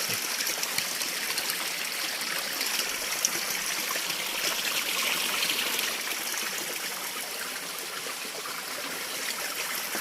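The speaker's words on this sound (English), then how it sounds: "You can see where the water is rushing out from." Water rushing out at the mouth of a stream in a village, a steady broad babbling and trickling flow, moderately close but fairly quiet, continuous for about ten seconds with no voices.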